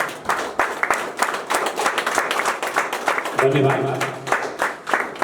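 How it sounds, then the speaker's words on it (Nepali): An audience claps in a quick, uneven patter at the inauguration of a leadership training event, the applause running for several seconds while a voice speaks briefly over it near the end. "सबैजना उठेर एकपटक ताली बजाएर यो उद्घाटन कार्यक्रमलाई साथ दिनुहोला"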